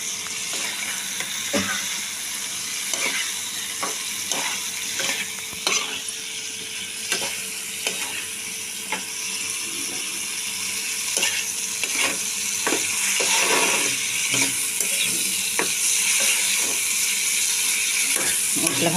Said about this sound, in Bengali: মশলা ভাজতে ভাজতে দেখুন তেল ছেড়ে যাচ্ছে